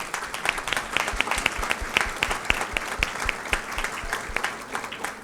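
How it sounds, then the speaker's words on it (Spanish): A conference audience at a national accreditation congress applauds for Ayacucho: steady, dense clapping from many hands, fairly close and continuous throughout, with no talk over it. "les pido a todos un fuerte aplauso para Ayacucho"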